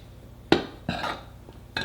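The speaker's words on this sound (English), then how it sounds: "I'll stir this all together" A spoon stirring butter into flour in a bowl gives three or four sharp clinks and scrapes against the bowl, spaced irregularly, close and fairly quiet.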